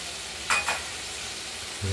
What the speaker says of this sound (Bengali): এবার এই অবস্থায় নাড়াচাড়া করে মশলাটাকে কষিয়ে